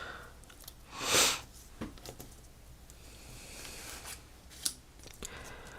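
Scissors snip through small craft pieces to halve them, a few sharp close cuts with one brief swishing rasp early on, then quieter scattered snips and handling noises, no talking.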